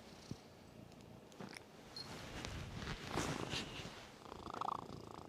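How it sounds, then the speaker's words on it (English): Soft, steady purring of a cat close up, faint and continuous with light rustling around it. "He's purring."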